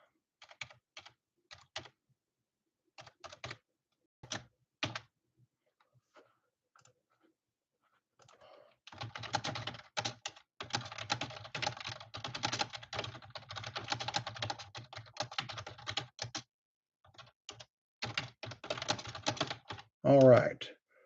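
Computer keyboard typing in short scattered bursts, then a longer run of fast, steady clicking keystrokes at close range, with no talk over it.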